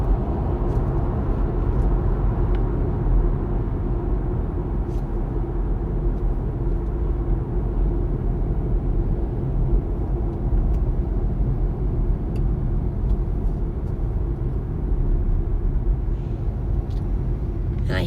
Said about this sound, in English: I hear the traffic on this road has gotten really bad